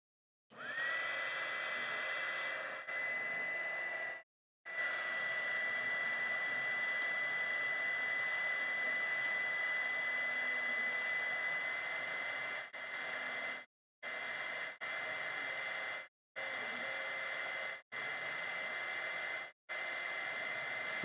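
A heat gun blowing on a solder-ring heat shrink wire connector, a steady airy whoosh that runs for long stretches and then cuts off and restarts in several short bursts, close and alone.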